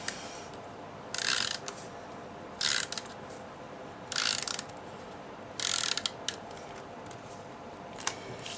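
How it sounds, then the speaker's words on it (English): An adhesive tape runner is drawn across scrapbook paper in four short, separate rasping strokes, close and crisp, with quiet room tone between them. "Gonna run some adhesive on that."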